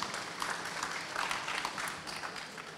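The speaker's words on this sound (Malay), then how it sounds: "Kita berikan tepukan kepada Ustaz Dr. Izhar" Faint, distant applause from a seated audience at a forum on hudud implementation, an even patter of many hands welcoming a speaker, with almost no talk.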